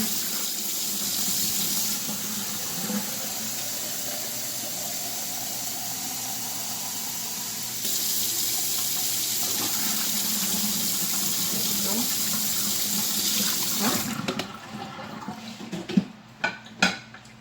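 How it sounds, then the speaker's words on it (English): Tap water filling a cooking pot during Sunday dinner preparation, a steady close rushing stream that runs for most of the clip before stopping, followed by a few pot clanks, with faint talk underneath. "I'm adding water."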